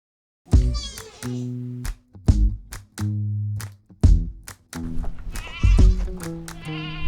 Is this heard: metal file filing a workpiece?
no